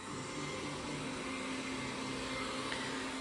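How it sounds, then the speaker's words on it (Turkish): A vacuum cleaner runs steadily in a living room, a constant whirring motor drone with a broad airy hiss and a faint tonal hum, alone and unchanging throughout. "Süpürgeyi çalıştırdım."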